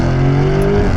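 A Novitec-tuned Lamborghini Urus SE hybrid V8 SUV accelerates, its engine a loud, close, continuous roar that rises slightly in pitch over one second.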